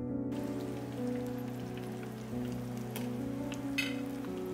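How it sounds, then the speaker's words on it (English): Pork belly deep frying in hot oil on its third fry to crisp the skin: a steady, dense sizzle and bubbling crackle, close and continuous. "let's fry it the third and last time for another 25 minutes"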